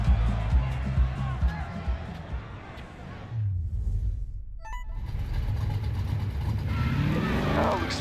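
A car driven in a video game gives a loud, steady engine drone with road and tire noise, briefly dropping away midway before surging back in and holding through to the end, with muffled voices faintly underneath.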